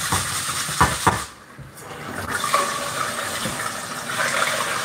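Water runs steadily from a kitchen sink tap in an older house with aging pipes, a continuous broadband rush with a few clunks and dish knocks, fairly close and loud throughout.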